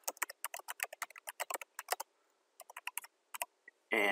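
Quick, irregular bursts of clicking keystrokes on a computer keyboard while code comments are written, close and crisp, with a short pause midway and a louder clatter at the end; no talking.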